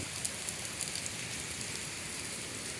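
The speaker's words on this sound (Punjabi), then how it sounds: "ਮੀਂਹ ਪੈ ਰਿਹਾ" Rain falls hard and continuously in Punjab, a loud close hiss peppered with a few distinct splashing drops early on, with no one speaking.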